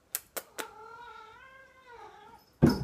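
A pet cat sitting on a desk gives a long, drawn-out wavering meow, close and clear, framed by a few sharp taps before it and a short rustle right after.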